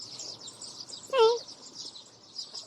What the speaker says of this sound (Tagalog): Yung daming ibon.